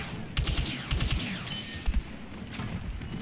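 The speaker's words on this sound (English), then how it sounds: "Throwing grenade." Grenade thrown and exploding in the Battlefield 2 video game, heard as bursts of gunfire and booms with several heavy low thuds and a sweeping, crackling tail at moderate loudness.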